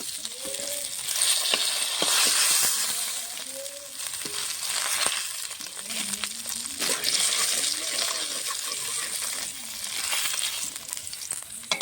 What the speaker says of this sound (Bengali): সম্পূর্ণ মাছ ভাজা হয়ে গেছে।